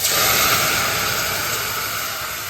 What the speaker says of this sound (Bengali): এবার এর মধ্যে আমি আগে থেকে একটু উষ্ণ গরম জল করে রেখেছি সেটা দিয়ে দেবো